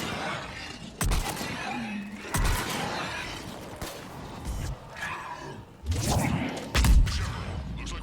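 Gunfire in a Mass Effect 3 firefight comes as scattered single sharp shots spread across the scene, with a heavier flurry near the end and game dialogue and noise between them.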